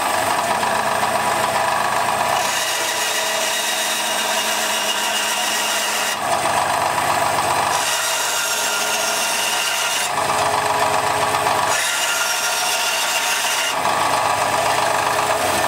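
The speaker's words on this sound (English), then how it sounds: "This is my bandsaw." A bandsaw cuts through wood with a continuous loud, close whine and rasp, and the pitch and intensity shift as successive cuts begin and end, with no talk.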